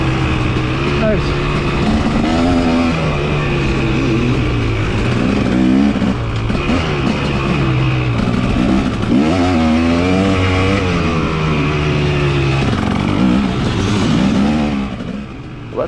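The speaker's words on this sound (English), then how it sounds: "I'm just going to let it play so you can hear what the bike's doing" A motorcycle laps a short race track during pre-season riding, its engine loud and close, revving up and dropping back repeatedly through gear changes and corners.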